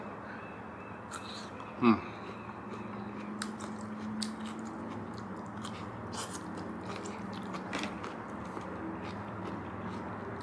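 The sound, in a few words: biting and chewing crunchy lotus root from self-heating hot pot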